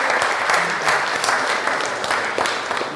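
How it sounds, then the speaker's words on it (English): A crowd applauds in a room, its clapping dense and fairly loud with a few sharper individual claps standing out over about three seconds. "Give yourself a round of applause."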